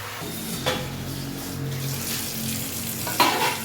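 Food frying in a pan at home gives a steady, close hiss and crackle throughout, with a couple of brief louder clatters from handling near the start and end.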